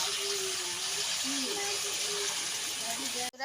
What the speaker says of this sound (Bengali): এদিকে আমার তেলটাও গরম হয়ে গেছে এবার তেলে আমি ছেড়ে দিচ্ছি